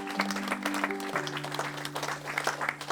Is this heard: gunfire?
no